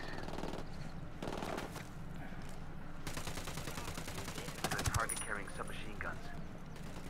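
Gunfire in Ghost Recon Wildlands, with repeated bursts of automatic fire and single cracks that come and go, a brief louder volley near the middle, and speech underneath.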